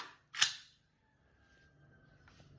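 A Tokyo Marui MK18 airsoft gun fires a single sharp semi-auto shot with a snappy mechanical crack, close and loud, followed by quiet.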